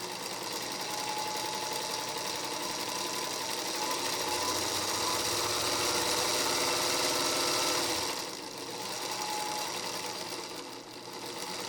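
Featherweight 221 sewing machine stitching steadily at changing speeds, a loud close whirring hum with rapid needle clatter that runs high for about eight seconds, then drops and slows before easing off.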